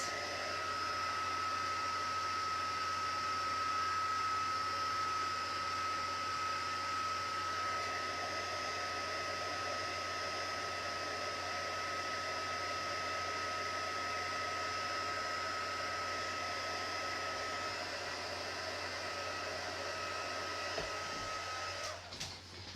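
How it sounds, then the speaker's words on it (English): A heat gun blows continuously while embossing a paper card, a steady close whine with a constant high tone that runs unbroken for about twenty seconds before cutting off at the end. "I'm just gonna emboss this."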